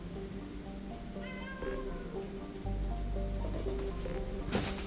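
A cat meows a few times in a thin, drawn-out voice beneath a steady mechanical hum that grows louder partway through, with a brief rustle near the end.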